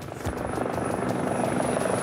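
An unmarked helicopter thumps steadily nearby, its rotor beating in a fast, even rhythm over a loud engine roar, with no voices.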